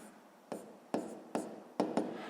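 Pen or pencil strokes on paper while a maths solution is written down, five short, soft taps and scratches close by in an uneven rhythm.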